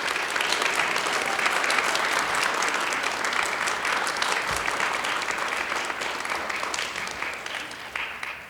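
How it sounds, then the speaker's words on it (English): A debate audience applauds the candidates at a student union election debate, dense steady clapping from a crowd held for several seconds before slowly thinning out. "If we could give a round of applause for our candidates."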